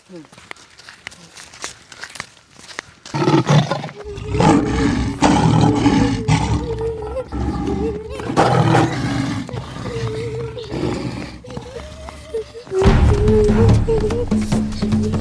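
Loud, deep roars like a big cat's burst out repeatedly, up close, with voices talking between and over them.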